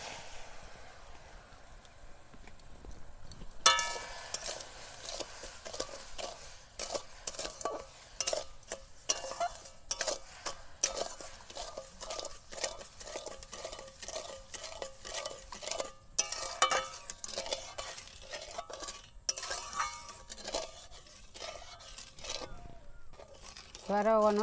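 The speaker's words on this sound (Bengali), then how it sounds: "এবারে অনবরত আমি এই নেড়ে নেড়ে চিনিটা গুলিয়ে নেবো" Sugar being stirred steadily into boiling water in a pot with a spoon, for coconut naru; repeated scraping strokes and light clinks at moderate level, with some talk in the background.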